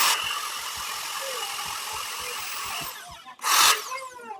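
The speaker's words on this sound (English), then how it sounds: "I've got my Buffalo Bully utility hook that now I'm gonna drill a hole into" A power drill bores a hole into a metal utility hook, its rapid rhythmic rattling drone running steadily and close, then cutting out before a short loud burst of revving.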